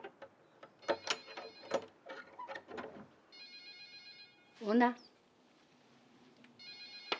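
A telephone bell rings in a large old house, two bursts of repeated ringing, one in the middle and one at the end, with talk and a short exclamation before it.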